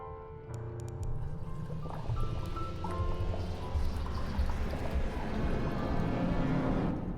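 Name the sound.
bathtub water draining in video game Wicked Seed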